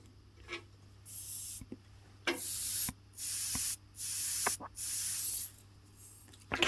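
Air is blown in short forceful bursts through a small carburettor emulsion tube from a Suzuki TF185 motorbike, making five or six close, breathy hisses, each about half a second to a second long, with brief silent gaps between them.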